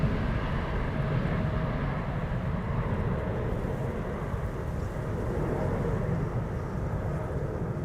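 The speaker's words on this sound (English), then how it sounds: "KLM against a blue and cloudy backdrop, climbing out." A KLM airliner climbing out after takeoff from Amsterdam Schiphol's Polderbaan runway in rainy weather produces a steady, fairly faint distant engine rumble with no clear peaks and no voices.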